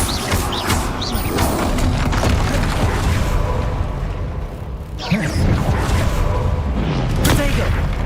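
Confringo fire-blast spells burst in Hogwarts Legacy combat, a dense run of booming, crackling explosions and heavy thuds layered with other spell impacts, loud and close, with a spoken voice mixed in.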